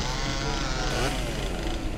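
A chainsaw revs loudly and steadily in the shooter game Brutal Doom 64, a dense continuous buzz for about two seconds with no voices over it.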